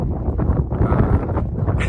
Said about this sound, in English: I'm on top of the hills when it's super windy